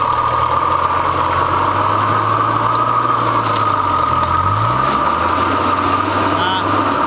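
An off-road vehicle on its first run drives slowly, its engine a steady low drone whose pitch dips and rises as the throttle shifts, with faint voices in the background.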